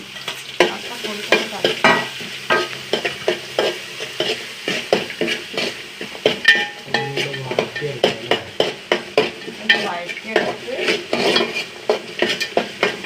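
A spatula stirs and sautés onion, carrots, ginger and green chilli in a pan. Close, steady scraping strokes repeat over a continuous sizzle.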